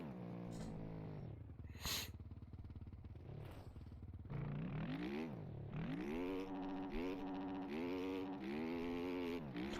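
A 450 motocross bike in the game MX Bikes revs and rises in pitch, drops as the throttle is let off fully, then revs again in wavering surges, a steady engine drone.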